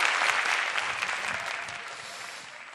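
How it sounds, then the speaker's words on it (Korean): An audience at a talk applauds enthusiastically, a dense, steady wash of clapping from many hands filling the room and fading slightly toward the end, with no voices over it. "여러분들 이렇게 너무 열광적으로 박수를 쳐주시니까 소름이 끼치네요"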